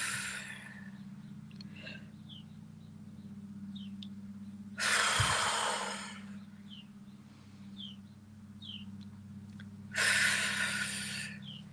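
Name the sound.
deep breaths exhaled through open mouth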